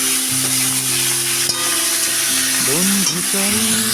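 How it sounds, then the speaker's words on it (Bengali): Prawns fry in hot oil in a wok, giving a loud, steady sizzle throughout, with faint tonal sounds running underneath. "কড়াইয়ে তেল দিয়ে দিয়েছি এখন আমি চিংড়ি মাছগুলোকে ভেজে নেব"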